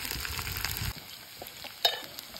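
Soaked dried meat pieces hit hot oil along with onions and green chillies and sizzle briefly. The frying dies down to a quiet crackle, with one soft clatter of a utensil near the end.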